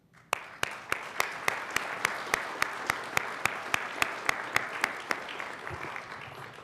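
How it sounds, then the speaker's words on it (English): Sparse, steady clapping at a school board meeting honors the parents and guardians present, about twenty sharp claps in an even rhythm over a soft room hum, with no talk. "If we could join in a round of applause for them."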